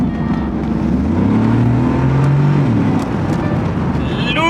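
A Mercedes G63 AMG's engine roars under hard acceleration, its rising pitch sweeping upward loud and close inside the cabin, with a person talking over it.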